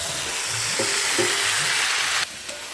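Fried potato and drumstick pieces sizzle loudly in a pan for a vegetarian paneer curry, a dense continuous crackle with a couple of light scrapes, then the sizzle drops a little near the end.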